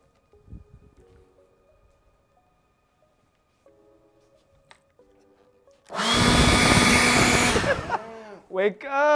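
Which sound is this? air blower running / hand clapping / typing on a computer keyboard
air blower running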